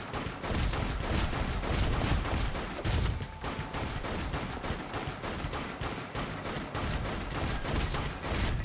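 Rifle fire in the top-down zombie shooter Dead Nation, rapid loud shots repeating almost without pause across the whole stretch, dense and continuous with brief dips, and no talking.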